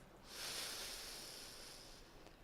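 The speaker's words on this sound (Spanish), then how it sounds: "y con un pequeño sonido la saco por la boca" A soft, breathy exhale through the mouth, a steady airy hiss lasting about two seconds before fading out, close and alone.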